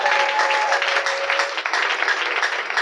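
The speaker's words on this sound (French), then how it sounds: "On l'acclame très fort." Church congregation at a charismatic service in Congo applauding loudly, a dense, continuous roar of clapping hands filling the room for a few seconds, with faint voices mixed into the crowd noise.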